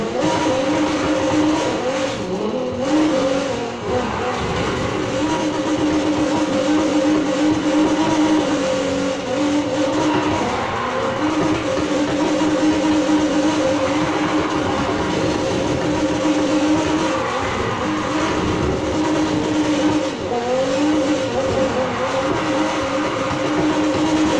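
A 1977 Pontiac Firebird in Need for Speed Heat holds a steady, loud engine drone with shifting pitch as the throttle is worked through a race, tire noise running underneath, no voices.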